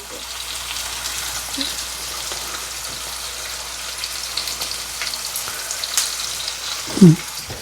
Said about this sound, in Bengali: এবার একটু ঢেকে দিই একটু ভাজা ভাজা করে